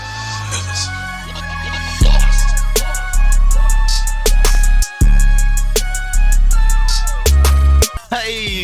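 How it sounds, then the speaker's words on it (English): A hip-hop beat made in FL Studio plays loud, with heavy booming 808 bass notes, crisp hi-hats and a melodic sample, briefly cut by a short dropout partway through. "This is a little preview of the beat."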